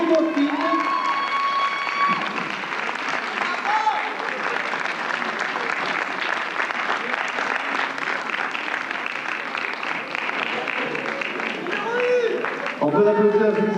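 A pageant crowd applauds and cheers for the runners-up, with dense clapping mixed with shouts and whoops that runs continuously and stays loud, while voices and melodic tones cut through at the start and near the end.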